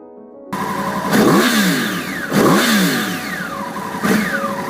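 Three sharp revs from a 2009 Yamaha R1 with its crossplane-crank inline-four, each one climbing quickly in pitch and then falling away with a rough, uneven growl, loud and close, with no talking.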